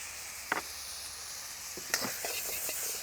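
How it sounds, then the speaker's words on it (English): Bean sprouts sizzle in a hot wok during a Thai-style spicy chicken noodle stir-fry, a soft steady frying hiss with a few light clatters of stirring, quiet and close. "Bean sprouts will go in just before I give it a wok toss. Bean sprouts in."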